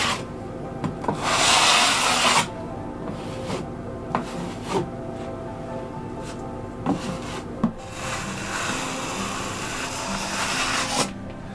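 Sanding of dried drywall mud on a pantry accent wall, bursts of steady abrasive scraping that alternate with quieter stretches holding light taps and rubs, close by and with no talking.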